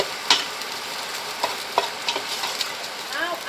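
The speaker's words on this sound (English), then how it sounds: "You can make people hungry just by frying onions." Steady close sizzling of onions frying in a pan, with occasional clicks and scrapes of stirring.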